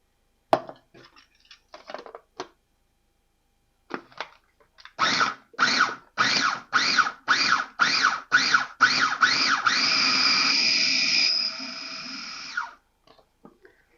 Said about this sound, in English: I pulsed, and then once things were broken up a little bit, then I was able to just kind of run the machine